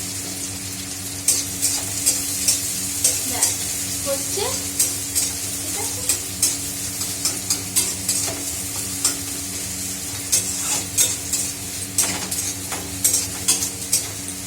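Onions frying and being stirred in a pan with slit green chillies, a steady sizzle broken by repeated scraping stirs throughout, with a few brief spoken words.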